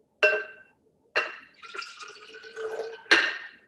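Homemade oat milk poured from a bowl and filtering through a strainer, heard as several bright splashes and trickles with short pauses between them.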